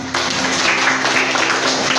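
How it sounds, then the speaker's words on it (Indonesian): Applause from a classroom audience at the close of a lesson, a steady dense patter of clapping that fills the whole stretch, fairly loud and close. "Ya, tepuk tangan"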